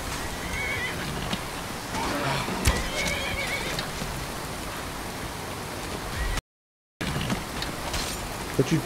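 Horse neighing in the Skyrim video game, with loud whinnies in the first half over a steady rain-like hiss and clip-clop hoofbeats, then a brief gap of silence before the ambience returns.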